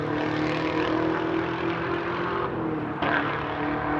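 A 2018 car engine without headers revving hard and steadily, a loud continuous roar with a brief dip near the end before it surges again.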